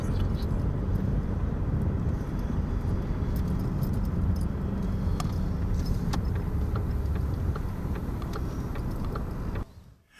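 A car drives along a road through a lavender field on the Valensole plateau in Provence, with a steady, continuous rumble of engine and road noise that fades out sharply at the very end.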